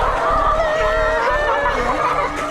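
Chickens on a farm, nearby clucking and honk-like squawks from several birds, loud and continuous for a couple of seconds.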